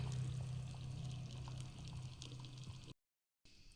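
Hot tempering is poured into a drumstick and lentil saaru, giving a continuous liquid sizzle and bubbling that runs steadily, then cuts out briefly before resuming more faintly.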